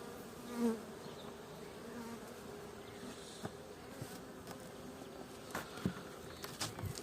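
Honey bees drone steadily around an open hive during mite treatment, a soft continuous buzz close by with individual bees passing near, plus a few light knocks and handling taps from frames and hive parts.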